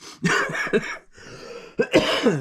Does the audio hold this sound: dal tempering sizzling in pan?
no